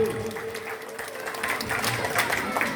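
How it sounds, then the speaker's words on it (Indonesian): A crowd at an evening village gathering in Kelambir 5 Kampung, Hamparan Perak, applauds in a steady patter of clapping, with a voice briefly sounding over it. "Tepuk tangan untuk Kelambir 5 Kampung."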